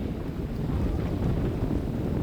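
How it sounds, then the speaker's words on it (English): Strong wind blows at the shore of Benet Lake, a steady, loud, close buffeting roar of gusts against the microphone for the whole stretch, with no talking. "It's so windy, you can see the waves."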